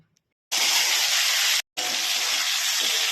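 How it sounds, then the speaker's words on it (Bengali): Crab pieces dropped into hot mustard oil fry with a loud, close, steady hiss. After a short lull it breaks into a second long stretch of sizzling, with no talk. "এই মাছগুলোকে ভালো করে একটু ভেজে নেব"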